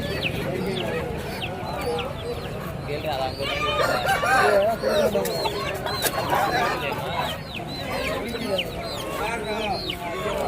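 Roosters and hens at a Saturday country-chicken market in Konganapuram, crowing and clucking in a dense, continuous chorus from many birds, with crowd chatter running underneath.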